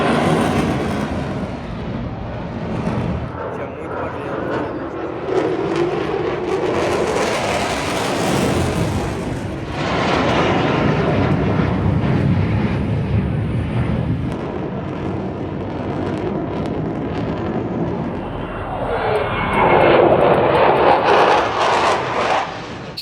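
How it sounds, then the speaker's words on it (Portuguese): Fighter jets pass over a small town in Cyprus, a loud, sustained broadband roar that swells and surges for the whole stretch, with a renewed rush near the end. "olha os aviões aqui passando"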